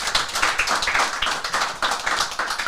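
A studio audience on a French TV comedy show claps for a guest, dense steady applause with sharp hand taps throughout, fairly close and loud.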